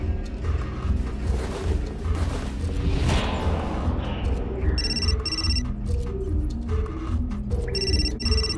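A telephone ringing in the video game Still Life 2, a repeated electronic ring bursting out over a low rumbling ambient game soundtrack, fairly close and clear in the second half.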